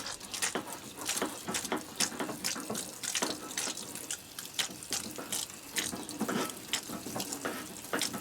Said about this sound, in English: So with them all in, I will again just water it lightly.